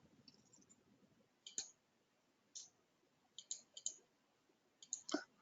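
A computer mouse clicks several times while saving in QuickBooks Online, sharp faint clicks in small clusters against a quiet background.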